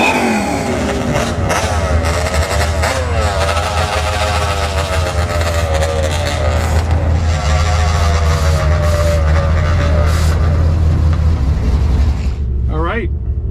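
A nitrous-fed Foxbody Mustang lines up against a Tesla Model S Plaid at a drag strip, engines rumbling and revving loudly and steadily with a rising whine near the end, while voices talk over the noise.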